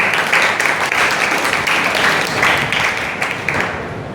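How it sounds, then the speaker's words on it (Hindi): A crowd of young people claps at an ITI youth skills day celebration, a dense, loud burst of applause that carries on steadily for a few seconds and then fades slightly near the end. "अपने युवाओं के लिए एक बार ताली से बधाई"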